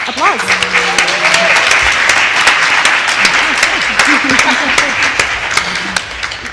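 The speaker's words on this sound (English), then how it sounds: "let's go ahead and give our panel a great round of applause" Loud, dense applause from a conference audience for a panel fills the whole stretch, with voices and whoops rising through the clapping.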